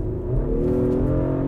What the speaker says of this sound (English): this will go grr on the upshifts with the sport exhaust